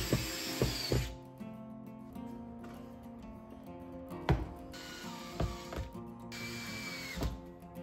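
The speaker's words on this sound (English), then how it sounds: "What I'm doing now is securing the mounting bracket or the wood to the wall" Power drill driving fasteners through a wooden mounting bracket into a garage wall in a woodworking shop, with several bursts of whirring, clicks and ratcheting, close and fairly loud, separated by brief handling pauses.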